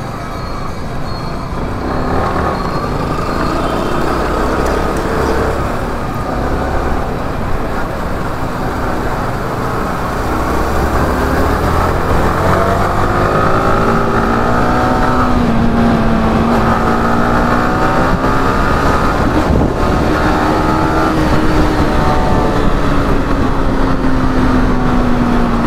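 KTM Duke motorcycle at full throttle in a road race, a loud sustained engine roar with rising and falling pitch sweeps, continuous and close throughout with no talk.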